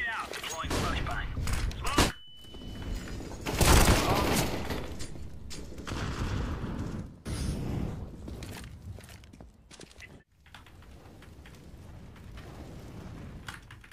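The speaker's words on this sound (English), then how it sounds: "Grenade out, deploying flashbang." Counter-Strike gameplay with a grenade blast and a flashbang detonation, each a sharp, loud burst. Footsteps and gunfire mix in between them, and a player talks over the action.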